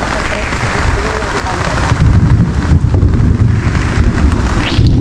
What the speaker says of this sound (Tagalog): narinig ko yung ano, yung kulog